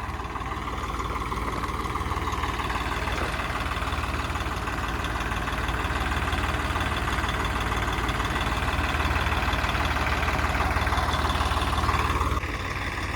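A Swaraj diesel tractor engine idles steadily throughout, a continuous low rumble with a faint mechanical knock, nearby and even in level.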